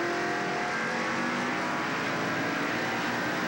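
Ford Craftsman super trucks race around an oval track in 1995, a dense, steady roar of several engines running together at moderate level with no talk.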